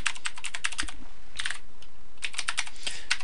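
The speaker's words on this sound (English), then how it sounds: "So I'll just type in my web address." Web address typed on a computer keyboard: quick bursts of crisp key clicks close by, a short pause, then another rapid run of keystrokes with no talking.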